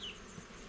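Honeybees buzz faintly and close during a transfer into a new hive, a brief, soft, steady drone with no voices over it.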